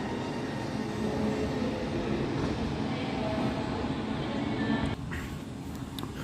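A train at Preston station gives a steady, broad rumble that holds for several seconds before easing slightly.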